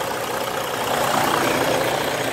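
A 2013 Freightliner Coronado truck's diesel engine idles nearby with a steady, low mechanical rumble and a faint knocking rhythm.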